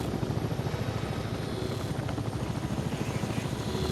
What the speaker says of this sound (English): Everyone knew that a helicopter had landed in the night.